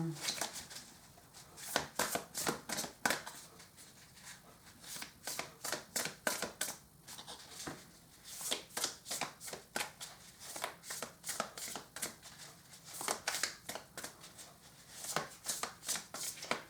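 A deck of tarot cards is shuffled close up in repeated quick riffling bursts with short pauses between them, continuing throughout at moderate loudness.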